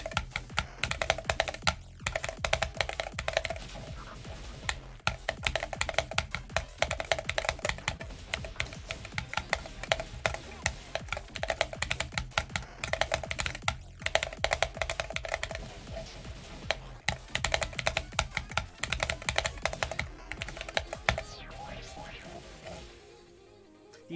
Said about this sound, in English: the keys on my macro board are the exact same keys on my keyboard.